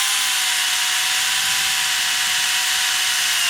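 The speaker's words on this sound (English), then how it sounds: "How about the chainsaw?" A 43.2V cordless chainsaw cuts through wood with a steady, loud, high-pitched buzzing whine that holds unbroken throughout, with no talking.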